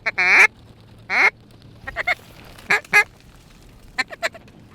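Ducks and duck calls sound during a field hunt in Colorado: loud, sharp quacks in short bursts, with several rapid call sequences spaced over a few seconds against quiet outdoor background.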